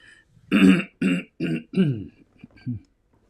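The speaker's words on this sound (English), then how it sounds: "Clear my throat all day." A baseball play-by-play announcer clears his throat in several short, gruff bursts, close and fairly loud, trailing off into a couple of softer grunts.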